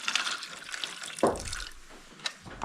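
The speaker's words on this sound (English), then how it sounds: "I'm going to put the hash browns in there to rehydrate. We'll cover with some water." Water is poured over dehydrated hash browns to rehydrate them for a backcountry burger bowl. A sudden splashing gush is followed by trickling and faint drips, near and moderately loud.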